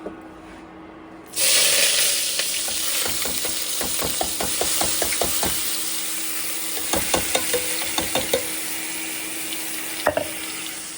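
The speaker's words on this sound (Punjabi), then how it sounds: "ਆਪਾਂ ਸਬਜ਼ੀ ਨੂੰ ਤੜਕਾ ਲਾ ਦਿੱਤਾ ਹੈਗਾ" A tadka for a vegetable dish bursts into loud sizzling after a quiet start, a close, steady hiss of hot oil with repeated spoon-stirring clicks and scrapes running through it, no talk.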